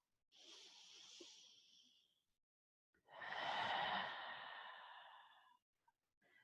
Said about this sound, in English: One more deep breath here, in and out.